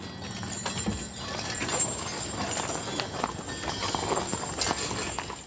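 Hooves of a 20 mule team pulling a historic wagon clop in a steady, overlapping rhythm at moderate distance, blended with rolling rumble and some faint voices in the background.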